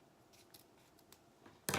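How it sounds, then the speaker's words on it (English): Scissors snipping the glued end off a length of ribbon: a few faint light clicks of the blades, then one sharper, louder cut near the end, alone and close. "you're going to take your scissors, cut off the little glue part on the end"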